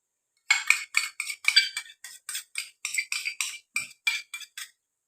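Yogurt being stirred into chicken dum biryani in a pot: about a dozen close, crisp scraping clinks of a spoon against the pot in a steady rhythm, with no talking.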